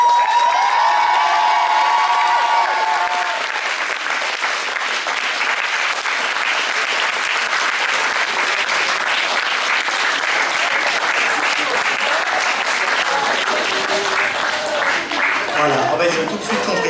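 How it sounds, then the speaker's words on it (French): A cosplay contest crowd at Dijon Saiten claps loudly and continuously for the cosplayers, with some cheering and children's shouts mixed in, sustained applause throughout. "on peut les applaudir à fond"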